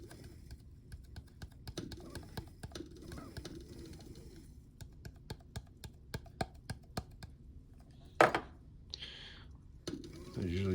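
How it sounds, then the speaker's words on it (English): Small repeated taps knock a moka pot's filter basket to settle the coffee grounds, a quick, fairly regular series of light clicks close by, ending in a louder clank and rustle. "I usually just give it a little tap or a little shake to kind of settle it"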